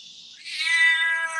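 A deaf cat lets out a loud, drawn-out meow with a rising wail, heard alone and close up after a brief quieter lead-in.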